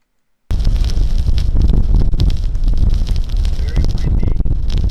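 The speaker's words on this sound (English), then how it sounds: "Very windy." Strong wind blows across a mountain, roaring as a dense, continuous rush with heavy low rumble and buffeting against the microphone from start to end, with no voices.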